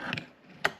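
Plastic door panel trim on a 2017 Nissan Armada is pried loose, producing a few sharp close clicks and snaps, two of them loudest near the end, with a soft scrape in between.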